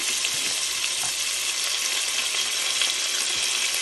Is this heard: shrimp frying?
yes